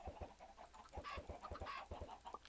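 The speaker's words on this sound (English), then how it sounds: "we'll add some more egg-producing chickens up here real fast" Minecraft chickens clucking in quick bursts, several short clucks overlapping in a busy, rhythmic cluster, fairly faint with no talk over them.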